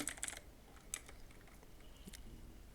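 Typing on a computer keyboard, entering a search for background apps on a Windows PC. A few quick bursts of keystrokes sound close and fairly faint, with quieter gaps between them.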